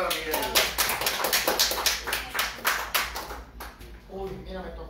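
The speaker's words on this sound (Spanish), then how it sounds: "Aplausos para Miguel Luna." Applause at a diploma ceremony for a communication workshop, a crowd clapping in dense bursts for about four seconds before it fades out.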